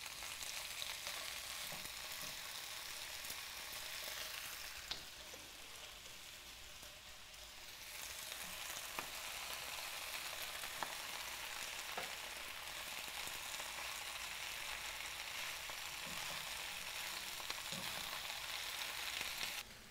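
Beet greens sauté in a pan with a continuous soft sizzle and crackle, faint and even, broken by occasional light scrapes and taps as they are stirred.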